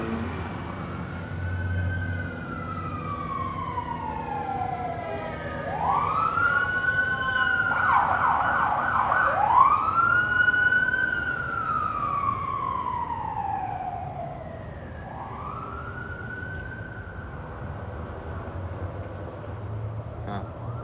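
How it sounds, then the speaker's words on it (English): Wailing sirens rise and fall in long sweeping cycles, fairly close, with several overlapping tones swelling in the middle before easing off. "Sirens, huh?"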